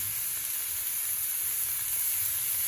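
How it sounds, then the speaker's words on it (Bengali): Cabbage frying in a pan with carrot and capsicum gives off a constant even hiss of sizzling, close and steady, with no voices. "এবার বাঁধাকপিটা ভালো করে ভেজে নেওয়া হবে"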